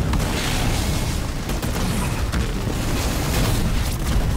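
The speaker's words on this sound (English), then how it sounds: "We've destroyed an enemy structure." An enemy structure explodes in the real-time strategy game Halo Wars 2, a dense, continuous low boom and rumble that fills the whole moment, loud and close, with sharp cracks of debris or fire breaking through the roar.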